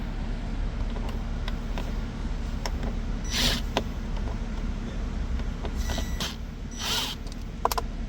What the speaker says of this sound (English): First step is to remove two screws right under this dashboard here.